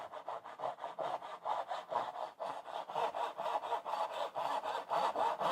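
A hand saw cuts a dovetail joint in wood, making quick, even back-and-forth rasping strokes, about three per second, close and fairly quiet with no talking.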